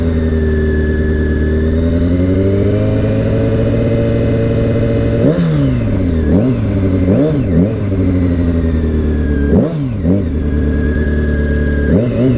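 A motorcycle engine revs loud and close in a steady harmonic drone, then climbs and drops through several sharp throttle blips and gear changes as the rider accelerates for a wheelie, with no talk.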